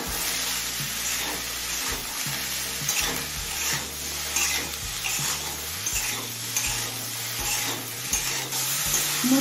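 Cauliflower and peas sauté in a pan with salt, chilli and turmeric, a continuous close sizzle broken by repeated scrapes and knocks of a spoon stirring against the pan.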